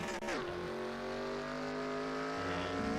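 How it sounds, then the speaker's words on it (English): A race car engine in an NR2003 racing video game screams at high revs, holding a strained, over-revving pitch in second gear with a brief shift near the start. "you may just heard it, that over-revving that is second gear"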